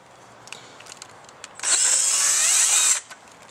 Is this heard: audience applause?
no